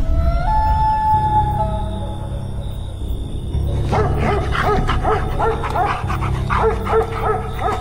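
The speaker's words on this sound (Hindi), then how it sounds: "घर में एक कुत्ता था जो मुझे देखकर भौंकने लग गया।" Dog barking in a Hindi horror cartoon, a run of repeated barks and yips over a steady music bed with no talking.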